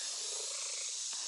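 A cat purrs softly and steadily up close, a continuous low rumble with a faint breathy hiss for just over a second.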